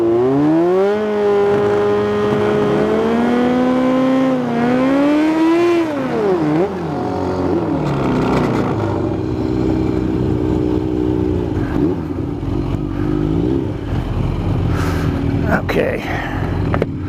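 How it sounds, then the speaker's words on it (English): A Kawasaki ZH2 motorcycle is held at high RPM on a drag strip, its engine wailing and rising before it drops off at launch. The loud roar continues steadily throughout. "Gonna leave it a high RPM. Gonna try to leave harder."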